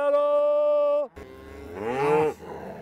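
Cattle moo in two long, loud, nearby calls: a steady flat bellow followed after a short pause by a rising, strained low to middle moo.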